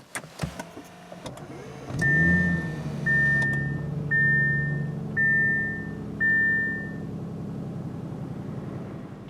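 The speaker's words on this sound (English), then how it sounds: "So obviously it has the push button ignition, so just put your foot on the brake and press the button." A 2020 Audi S7 started by push-button ignition: a brief starter whir and catch, then the engine settles into a smooth idle while a series of five short electronic chimes sounds over it.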